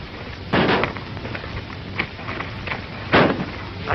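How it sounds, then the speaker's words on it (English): Two sharp, loud gunshots ring out about two and a half seconds apart in a western shootout from a 1937 Three Mesquiteers film, with quieter rumbling noise between the blasts. "I heard the shooting"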